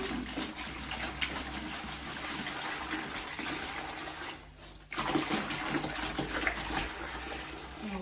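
Water pouring steadily into a bucket for mixing wall plaster, a continuous splashing gush that briefly drops away then resumes louder, close by with no talk.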